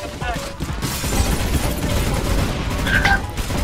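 Gunfire in the co-op rush mission of the video game CS:GO: a dense, continuous rattle of shots with booms under it, fairly loud, while players shout over the shooting.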